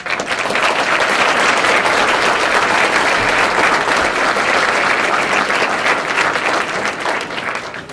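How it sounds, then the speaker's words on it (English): A large audience at a fire department swearing-in ceremony gives a sustained round of applause for newly graduated firefighters, dense steady clapping that fills the room for the full eight seconds without a break. "round of applause for the firefighters that just left the academy a couple of weeks back"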